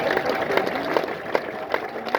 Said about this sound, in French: Est-ce qu'on peut applaudir pour ce moment?